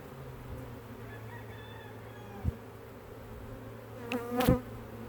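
Honeybees from a failing, queenless colony buzz in a steady drone at an open hive, with a rooster crowing faintly in the distance near the end.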